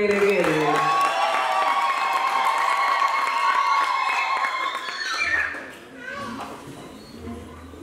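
At a church wedding, guests cheer with piercing ululation and clapping right after a ring exchange, a loud chorus of trilling voices that drops off near the end into softer crowd noise.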